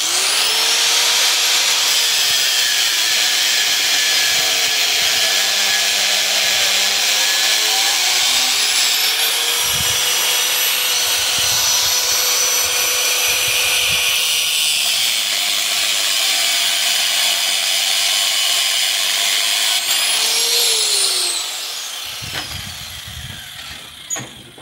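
A power tool cuts rebar pieces, giving a loud continuous whining, grinding drone with shifting pitch that runs for about twenty seconds and then winds down at the end.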